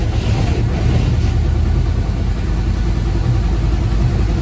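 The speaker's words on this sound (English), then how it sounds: "Kind of sounds like a rod knock" A van engine idles with a steady low rumble and a repetitive knocking like rod knock, continuous and close throughout.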